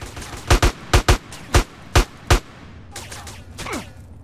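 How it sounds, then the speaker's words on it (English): Gunfire in Grand Theft Auto: San Andreas, seven sharp, loud shots in an uneven burst, some paired close together, followed by fainter distant shots and a swooping game sound. "Who the fuck's shooting at me?"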